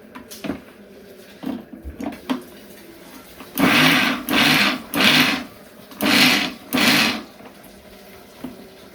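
A mixer grinder crushing grated coconut and spices dry, with no water, for a jackfruit-seed and drumstick-leaf thoran, running in five short roaring pulses of about a second each with quiet kitchen clatter between them.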